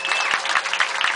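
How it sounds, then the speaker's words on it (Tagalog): A brief round of audience applause at a political caucus, with many hands clapping densely and close by. "Palakpak po natin."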